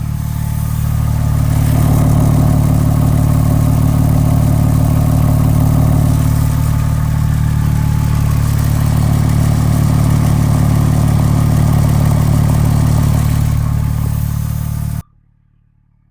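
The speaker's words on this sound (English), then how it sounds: "And now we'll get in close to the exhaust." A 2001 Porsche 911 Turbo Coupe's twin-tip exhaust idles up close, a loud, steady low rumble that holds evenly before cutting off abruptly at the end.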